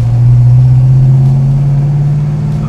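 A 1969 Plymouth Road Runner's engine drones steadily from inside the cabin, a loud, low, even rumble with no change in pitch and no voices over it.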